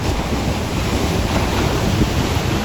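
Ocean surf rolls in Aberdeen Bay, Scotland, a loud continuous roar of breaking waves on the shore mixed with buffeting wind noise on the microphone, steady throughout with no voices.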